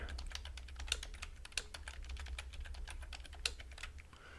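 A password is typed on a computer keyboard, a fast, irregular run of light key clicks with a few sharper presses, close and fairly quiet, with no talking.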